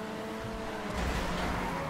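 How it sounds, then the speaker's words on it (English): Car engine in GTA 5 Online, the player's Aston Martin-style car, revving steadily with a duller low thump and rising rumble about midway as another car rams it, no voices. "And we've been rammed."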